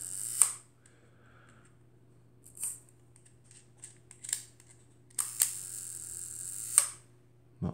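Shutter releases of a pre-war German Voigtländer Vito folding camera with a Skopar 50mm f3.5 lens, slow speed with a sticky shutter: several crisp mechanical clicks and winding sounds, close and isolated over a faint steady hum.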